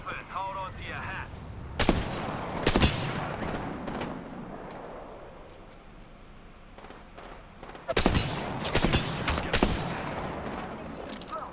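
Apex Legends gunfire rings out in loud, sharp bursts of rapid shots, with clusters near the start and again toward the end over a busy background of game sound, while a voice is faintly present.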